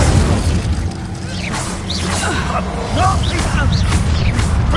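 Incendio fire spell casts in a Harry Potter video game amid a loud, chaotic battle of booms, bursts and crashes, several sharp impacts and chirping effects layered over continuous rumbling game noise.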